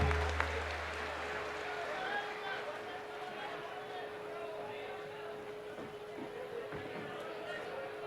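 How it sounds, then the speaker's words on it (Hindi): Fairly faint, distant applause rises from the audience welcoming a guest at the Ashwamedha Mahayagya gathering in Mumbai, a diffuse steady patter with a low electrical hum running underneath. "जोरदार तालियों से स्वागत है"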